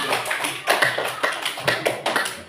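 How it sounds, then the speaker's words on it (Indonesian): A small group claps for group 3 in a classroom. The claps are close, uneven and rhythmic, about a dozen sharp hand strikes in quick succession with no voices. "tepuk tangan dulu untuk kelompok 3"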